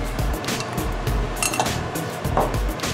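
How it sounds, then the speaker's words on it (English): Boiled monkey nuts, drained after about 40 to 50 minutes of boiling, are served into a bowl. Shells clink and rattle against the dish over a steady, busy background. "I'm just going to serve in a bowl"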